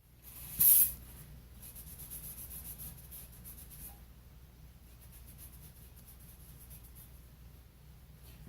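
A short, sharp hiss of cleaner sprayed onto a 2009 Mazda 6 rear brake rotor, one quick burst near the start, followed by faint rubbing and low background hiss in a quiet garage.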